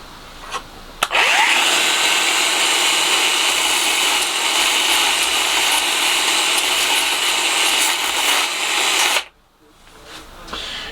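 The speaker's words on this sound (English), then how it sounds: "I cheated and used this little Ryobi finger sander because it soon makes short work of it" A small Ryobi finger sander works timber pieces for a workbench infill, a loud close buzzing rasp that starts abruptly, runs steadily for about eight seconds and then cuts off.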